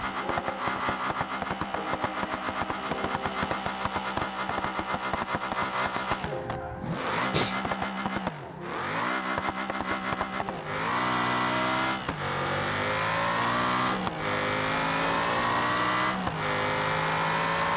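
Plymouth Prowler engine in the BeamNG driving game, a steady droning growl that dips briefly midway and then climbs through a series of rising revs, loud and close with no talk.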